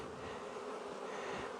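Honeybees hum at an apiary in May, a dense, even buzz from many insects close by, with no voices.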